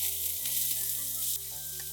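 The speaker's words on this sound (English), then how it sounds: "Let's saute the onions." Red onions sauté in olive or vegetable oil for a vegetable paella, giving a steady close hiss with faint tonal hum underneath, continuous for about two seconds.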